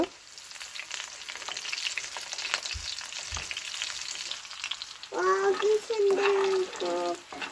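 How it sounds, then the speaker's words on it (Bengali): Chicken nuggets fry in hot oil with a steady, dense crackling sizzle for about five seconds. A voice then talks over the frying near the end. "দুই তিন মিনিট ধরে ভাজবো এখন উল্টিয়ে দিব"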